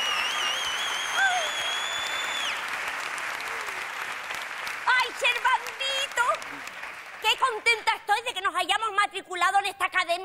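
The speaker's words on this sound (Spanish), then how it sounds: "Me gustaría que les recibiéramos como se merecen, con un aplauso muy grande" A studio audience greets two guests with loud, sustained applause and a few high whistles, then the clapping gives way to lively talk and chuckling.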